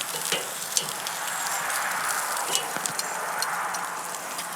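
Bacon sizzles steadily on a grill smoked with applewood, a dense crackling hiss with occasional sharper pops and scrapes as the strips are moved and flipped.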